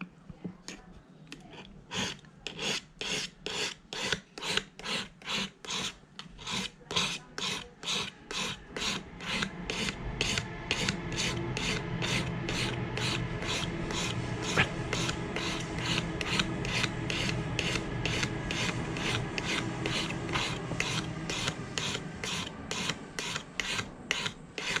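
A Stanley 151 spokeshave blade rasps back and forth on a sharpening stone, a close, rhythmic scraping of quick strokes that merge into a continuous grinding scrub partway through.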